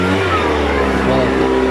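A garden leaf blower revs up close by, its loud engine drone climbing in pitch while a voice talks over it.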